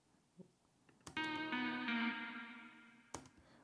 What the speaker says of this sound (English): just add a bit of reverb just to give it a little bit more tail